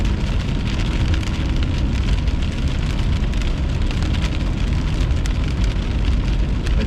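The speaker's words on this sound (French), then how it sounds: "Ici, c'est de la pluie." Heavy rain pouring down during a thunderstorm on a road in Quebec, a loud, dense, constant drumming and hiss, as if hammering on a car, with no talking.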